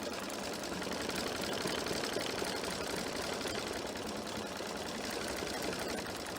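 A sewing machine runs a triple stitch with embroidery thread, giving an even, continuous mechanical whirr and rapid needle clatter that holds steady without pauses throughout.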